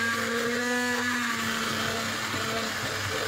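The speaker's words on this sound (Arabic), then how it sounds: "دوكا عندكم الخلاط لا روبول تخلطو بيه" An electric mixer whirs steadily at close range, blending cake batter of oil, milk, sugar and cocoa, a continuous motor drone running unbroken with no talking.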